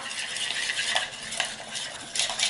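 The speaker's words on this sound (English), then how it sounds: "And we stir that up" A utensil stirs peanut butter into cheesecake batter in a jar, making soft wet scraping and clinking strokes in an uneven rhythm, close and moderately loud.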